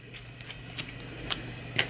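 Quick shuffle of a deck of game cards from an Arkham Horror 2nd Edition tabletop session, soft papery riffling with a few sharp flicks, close and quiet, lasting under two seconds.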